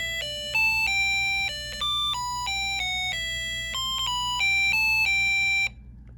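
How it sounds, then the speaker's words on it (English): A homemade musical doorbell circuit plays a simple electronic tune of clear, evenly spaced tones, steady and fairly close, running for several seconds with no talking over it before stopping abruptly. "that was our musical doorbell circuit"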